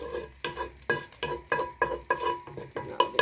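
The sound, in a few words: onion frying in oil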